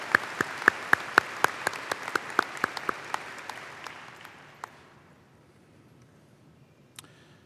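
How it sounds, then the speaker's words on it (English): Applause from a high school graduation audience starts strong with sharp, distinct claps, then thins out and fades to near silence, with a last isolated clap near the end. "if we could just give her a round of applause for all the hard work"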